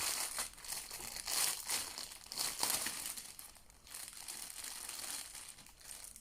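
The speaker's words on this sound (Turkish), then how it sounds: "Hemen paketi bir açayım." Plastic packaging for heat-shrink tubing crinkles and crackles steadily as it is torn open and handled up close, with no voices present.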